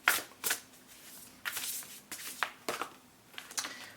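Tarot cards are shuffled by hand in several short riffling bursts with pauses between them, close and fairly quiet, with no talk.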